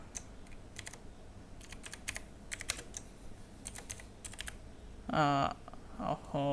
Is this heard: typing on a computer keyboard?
yes